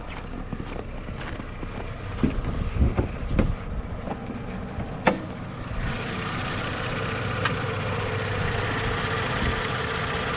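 A Ford Taurus engine, repaired after cylinder misfires, idles steadily with a low, even hum, with a few clicks and knocks early on before the tone smooths out.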